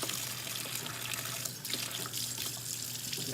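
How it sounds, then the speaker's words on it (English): A water tap runs steadily into a sink while hands are washed, with a continuous close splashing and trickling sound throughout the short clip. "So I'm gonna wash my hands"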